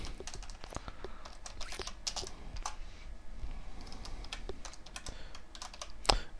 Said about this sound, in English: in case you're wondering about my sloppy typing